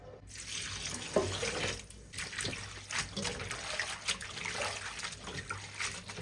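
Tap water runs steadily into a sink while food is rinsed by hand for Tibetan atta noodles, a close, continuous splashing stream with small clatters and changes in flow.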